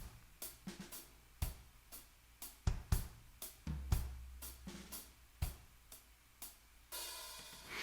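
Drum groove played on a kit: crisp bass drum and tom hits, soft ghost notes on the snare and steady quarter-note hi-hat, a close, clear pattern with an open cymbal wash near the end.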